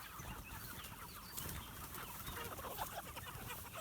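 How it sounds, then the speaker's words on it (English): Pastured chickens cluck softly on a farm, scattered low clucks and rustling over a faint, steady outdoor background. "Chickens moving themselves."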